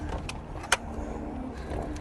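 Inside a moving car, a steady low road and engine rumble fills the cabin, with a sharp brief click partway through and faint rattles around it.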